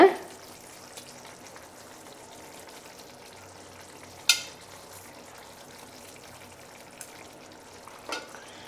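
Soft, steady sizzling from a hot pan, with a few sharp scrapes and taps of a utensil stirring a mashed potato mixture.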